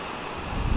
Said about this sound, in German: Aber Sie hören es selber, der Wind frischt auf